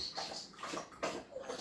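A dog scooping water out of an indoor pool with its paw, giving soft, uneven sloshes and splashes in a few bursts that come close and fairly quiet, with no voices.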